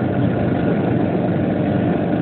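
A silver Vespa PX scooter's engine runs steadily at idle, a smooth continuous low hum and putter, loud and close, with no other sounds.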